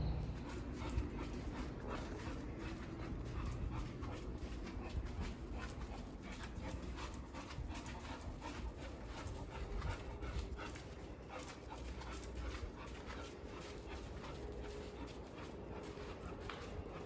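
A dog pants and whimpers in a parking lot, with steady breathy panting and occasional soft whines continuing close by throughout, without any talking.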